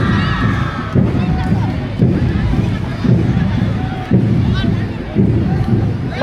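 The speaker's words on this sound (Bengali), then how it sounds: "আমরা জোরে কি করতালি দিতে পারি এই ছোট্ট বন্ধুদের জন্য?" A crowd at a Victory Day celebration in a stadium claps and cheers for a children's parade. Rhythmic waves of applause and shouting keep rising, with a voice on a loudspeaker carrying over the babble.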